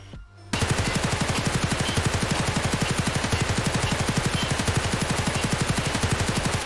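A short-barrel RPK machine gun fires in Escape From Tarkov, one sustained burst of rapid, evenly spaced shots lasting about six seconds, loud and close with no talking.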